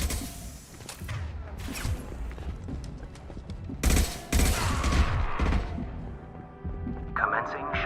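Combat gunfire in the Mass Effect video game, dense and continuous with heavy booming impacts and rattling bursts layered throughout, loud and close, with a voice speaking over the battle.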